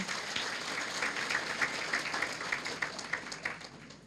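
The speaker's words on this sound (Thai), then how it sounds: "ปรบมือให้ตัวเองดังๆด้วยค่ะ" An audience claps together at a Thai business event, a fairly faint but steady patter of many hands with slight rhythmic pulses, no talk over it.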